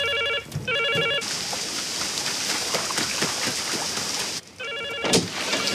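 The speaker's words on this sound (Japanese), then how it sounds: "電話が鳴ってんのに" A telephone rings in a scene from The Lost World: Jurassic Park, with repeated electronic trills in bursts near the start and end, separated by a long spell of steady rain-like hiss.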